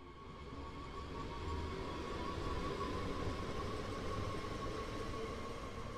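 Steady rumble and rolling noise of a BR422 electric multiple unit in motion in Train Sim World 3, heard from inside on the Rhein-Ruhr line between Wuppertal and Hagen, with a faint tonal whine and no talking.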